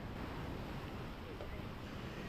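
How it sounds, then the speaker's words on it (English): Evening ocean waves at Navarre Beach make a continuous loud, broad roar of surf mixed with wind buffeting the microphone, with no distinct breaks. "The waves in the evening seem to be a little bit different than the waves in the morning."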